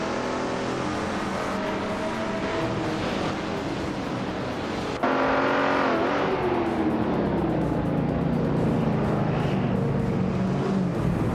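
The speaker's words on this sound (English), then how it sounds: "the race is kicking off at Autumn Ring, and leading the pack is Forsengo in a classic 1963 Porsche 904" A classic 1963 Porsche 904 and rival cars race at Autumn Ring in a racing video game, a continuous loud engine drone that jumps up in pitch at a shift and keeps climbing as the pack speeds off.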